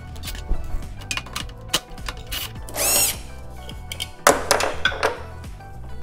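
A power tool removing the 12 mm bolt that holds the horn on a 2018+ Subaru WRX, a rapid ratcheting whir in short bursts with metallic clicks and knocks, close up, with no talk.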